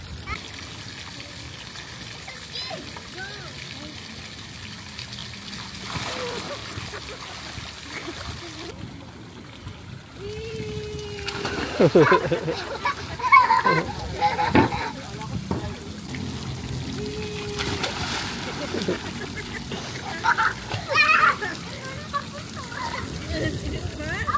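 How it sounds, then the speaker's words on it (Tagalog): Water splashes and trickles in a shallow kids' playground swimming pool at a hotel in Tagaytay. The steady background wash has intermittent nearby splashes, and children and adults talk and call out throughout. "Dito muna kami sa swimming pool na playground."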